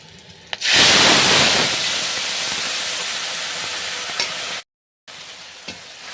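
A spice paste for a fish dish hits hot oil in a pan with a sudden loud burst of sizzling, then a strong, steady frying hiss with faint stirring taps and a short break near the end.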